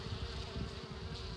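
Honey bees hum at a hive inside a tree hollow, a soft, steady buzz that stays faint and close.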